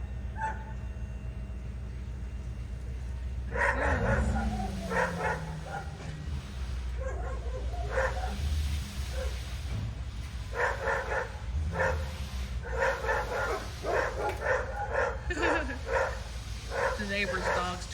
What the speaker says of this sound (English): The neighbor's dog's chiming in too.